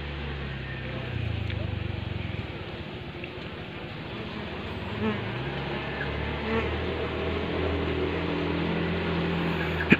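Apis cerana honey bees swarm a feeder, giving a steady, dense buzzing close by over a low background hum.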